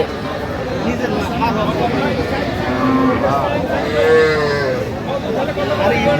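Cattle low and moo at Aftabganj livestock market in Dinajpur, where Sahiwal cows and calves are traded; several long harmonic moos rise over a dense crowd murmur and chatter, one loud call near the end.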